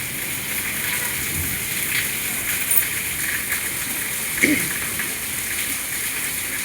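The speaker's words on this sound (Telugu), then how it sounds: "ఒక్కో చినుకు చూడండి ఎంత లా వస్తుంది" Constant heavy monsoon rain in Kurnool, India, hisses and patters nearby, with a few louder splashes and drips standing out over the steady downpour.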